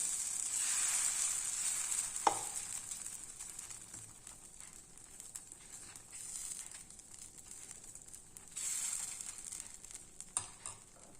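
Wheat rava adai batter hits a hot pan and sizzles in a bright, hissing burst that fades gradually, then swells again later, with a few small clinks along the way.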